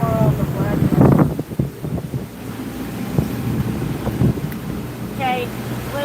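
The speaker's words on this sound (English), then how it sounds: "right now we have wind directly behind us." Wind blows across the microphone aboard a sailing catamaran running wing-on-wing with the breeze directly astern on the way into Charleston. Loud gusty buffeting rises and falls under a few muffled voices, with brief water sounds and a short whistle-like tone near the end.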